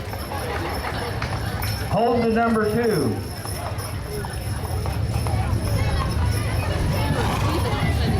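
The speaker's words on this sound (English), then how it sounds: "Followed by a horse with a number 2 on it." Horse hooves clip-clop steadily in a ToonFest parade in Marceline, Missouri, a horse wearing the number 2 passing close by under crowd murmur, with a brief brassy tone and a voice speaking over it.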